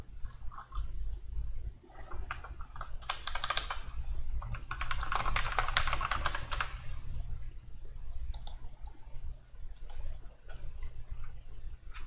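Steady typing on a computer keyboard during Creo CAD modelling work for a chassis design, with dense, continuous key clicks that rise in intensity mid-way, heard up close over a low constant hum.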